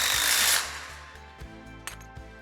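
Power tool tightening the top bracket on a farm gate, a loud whirring burst at the start that quickly stops, followed by a few faint clicks and knocks of metal hardware.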